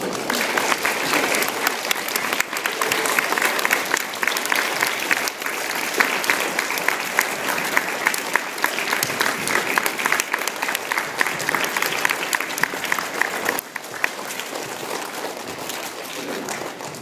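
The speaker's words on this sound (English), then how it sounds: "let's give them a round of applause" Sustained applause from a school audience of students, faculty and guests honoring standing veterans at a program, dense steady clapping filling the room for the whole stretch.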